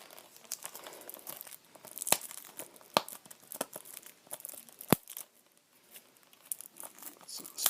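Plastic wrap pulled and torn off a Just Cause 3 PS4 game case, close crinkling and crackling in irregular bursts with sharp snaps, pausing briefly before resuming.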